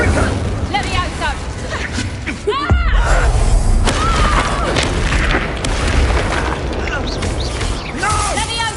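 Spell explosions go off in a Hogwarts Legacy battle, a heavy boom followed by crackling bursts, pops and thuds amid game combat, with a voice calling out over the loud din.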